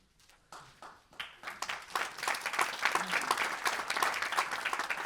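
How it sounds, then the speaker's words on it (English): An audience applauds after a consulting services talk. The clapping starts sparse and quiet, then quickly swells into steady, dense applause that holds to the end. "Are you clapping because I'm done, or?"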